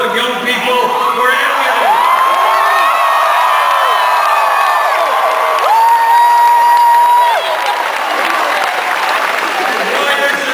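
A large crowd cheers, whoops and applauds at a Bernie Sanders rally in Greensboro, North Carolina, a loud sustained roar with shouting voices rising and falling throughout.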